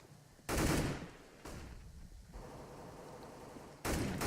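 Desert Eagle pistol fire in CS:GO on the Cache map during a competitive match: three loud, separate blasts with longer gaps between them, set against a steady background of game noise.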